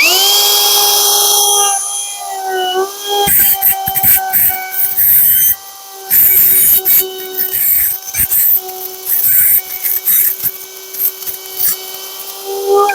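A Metabo HPT M3612DA 1/2-inch cordless plunge router with a rabbeting bit spins up with a rising whine, then bites into a board's edge in uneven, gritty bursts of cutting over a steady motor tone.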